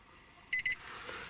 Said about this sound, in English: Just touch till it beeps.